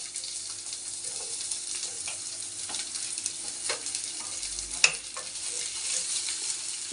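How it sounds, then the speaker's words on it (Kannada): Onions fry in oil for a fish curry, a moderate steady sizzle with occasional stirring scrapes and a brief sharp clink, heard close without talk. "ಈಗ ಉರಿಯೋದಕ್ಕೆ ಈರುಳ್ಳಿ ಹಾಕ್ತೀನಿ"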